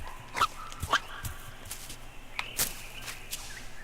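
A fox character in the video game Seasons After Fall gives several short, sharp barks at uneven intervals, fairly close, with faint steps and ambient game sound between them and no speech.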